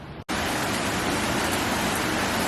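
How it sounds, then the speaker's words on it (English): Heavy rain pouring down outdoors, a loud, dense, continuous roar of falling water that starts abruptly after a brief gap and holds steady throughout. "It's still raining, and it's raining so much the dog is refusing to poop outside"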